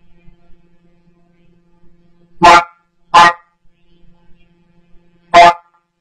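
A dog gives three sharp, loud barks, two close together and then one after a pause, against an otherwise quiet background with a faint low hum.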